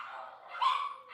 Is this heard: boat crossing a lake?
no